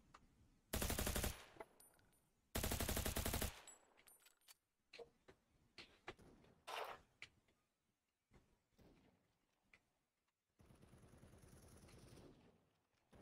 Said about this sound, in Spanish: Estoy escuchando disparos.